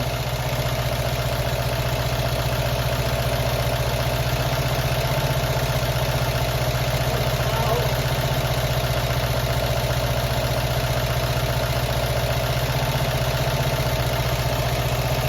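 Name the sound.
classic Fiat 500 engine idling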